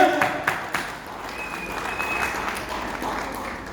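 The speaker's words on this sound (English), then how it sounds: "Round of applause for our volunteer." Applause from an audience at a mentalist show in Cape Town, welcoming a volunteer on stage: a steady crowd clapping that carries through the whole moment.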